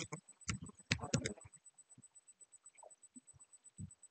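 Computer keyboard typing while commands are entered in an interactive Node.js terminal: a brisk cluster of quiet, close key clicks, then a few sparse, faint taps against a soft background hum.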